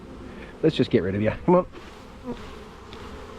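Honey bees buzz loudly and close by during a Langstroth hive inspection, a brief intense drone under a man's short spoken remark, then fading to a faint background hum.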